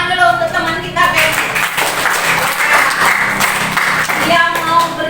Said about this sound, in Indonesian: Kita kasih tepuk tangan dulu untuk teman kita, Ben.